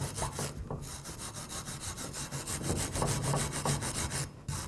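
Wire brush scrubbing a Ram 1500 brake caliper bracket, rapid rhythmic back-and-forth rasping strokes close to the microphone with no talking.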